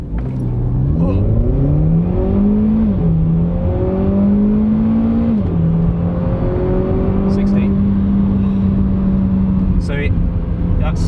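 A turbocharged Seat Ibiza with a DSG gearbox accelerates hard from standstill to 60, the engine note climbing through quick gear changes in a loud, close interior drone that then holds steady.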